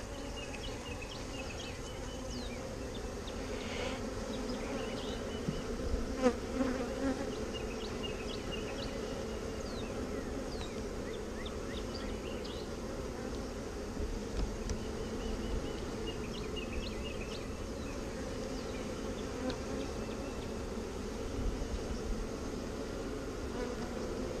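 A honeybee swarm buzzing steadily during a calm hive inspection in Texas, a continuous dense hum with individual bees droning past nearby, moderately loud throughout with no talk.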